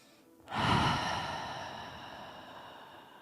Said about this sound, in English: Taking big breaths here.